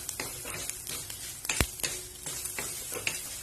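Dried red chillies roast with spices in a pan for an onion thokku, giving a close, steady sizzle broken by a few sharp stirring scrapes and clicks, with no voices.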